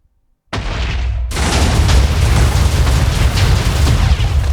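Blue fire attack move in a Jujutsu Kaisen video game, bursting in abruptly after near silence as a loud roaring blast that swells into a sustained rumbling, crackling fire, no talk.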